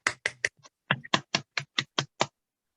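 A church youth group claps in a short burst: a few quick claps, a pause, then a steady run of evenly spaced, crisp, close hand claps that stop abruptly.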